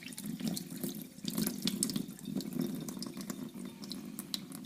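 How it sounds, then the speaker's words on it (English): Water draining through a strainer from soaked dal, a steady close splashing stream with small drips and clatter, no voices. "The dal has picked a lot of the water up, and I'm just going to strain it here."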